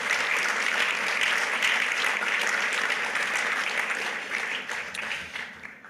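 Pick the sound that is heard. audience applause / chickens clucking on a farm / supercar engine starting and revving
audience applause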